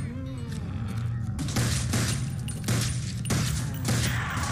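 Stop-motion toy army men fighting WW2 zombies, with bursts of rapid gunfire in several sharp volleys separated by brief pauses, loud and close, and no speech.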